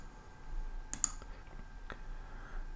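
A computer mouse clicked on a reset button: a few faint, sharp clicks in a quiet room, two close together and one a moment later.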